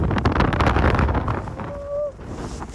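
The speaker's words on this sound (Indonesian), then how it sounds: "Anginnya kencang banget, oi" Strong wind batters the microphone on a mountain hike up Gunung Ciremai, a loud, blustery roar that eases after a couple of seconds, leaving a faint whistling tone.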